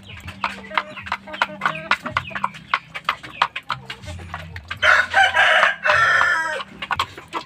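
A white Asil rooster crows loudly at close range in two long calls near the end, following a stretch of clucking and scattered farmyard knocks, with low background noise throughout.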